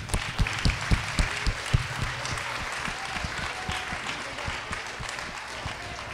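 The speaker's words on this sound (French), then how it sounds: "Un gros mal d'applaudissements pour Shane" An audience claps in a burst of applause, with a few sharp individual claps standing out early before it settles into a steady patter.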